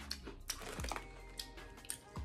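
Close, crisp crunches of someone chewing plain potato chips from Scandinavia, several bites in an uneven rhythm, quiet and without speech.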